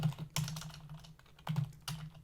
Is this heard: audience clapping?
no